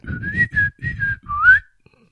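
A short whistled imitation of the SpongeBob whistle tune, five quick notes rising and falling, clear and close, with breathy puffs against the microphone under each note.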